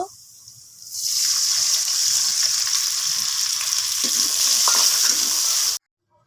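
Spices and raisins fry in a pan, a loud bright sizzle that starts after a quiet moment, holds steady with a few stirring scrapes, then stops abruptly.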